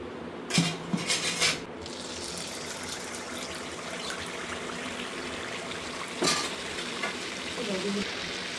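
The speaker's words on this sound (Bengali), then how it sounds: "তো এভাবেই একের পর এক তেলের পিঠাগুলো বানানো হবে।" Oil pitha cakes fry in hot oil with a steady, close sizzle, opened and later punctuated by sharp clatters of a utensil against the pan, with no talking.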